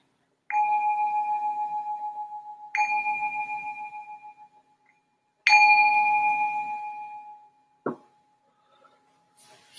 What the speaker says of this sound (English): Or just ring the bell to signal the start of this reflection.